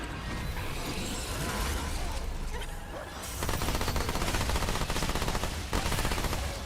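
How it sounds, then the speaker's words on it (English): An SMG in the shooter Remnant 2 fires in sustained rapid bursts, a dense rattling stream of shots that grows louder and denser partway through, heard over game effects without talk. "The SMG goes hard on this build."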